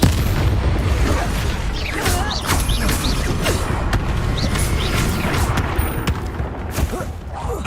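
Expulso spell explosions in Hogwarts Legacy combat, loud, dense blasts and crashes with repeated sharp impacts and booming low rumble over several seconds, amid battle noise and no clear talk.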